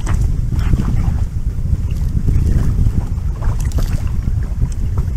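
Wind rushes steadily over a pontoon boat on a lake, a continuous low buffeting roar with gusty microphone rumble and faint water sounds throughout.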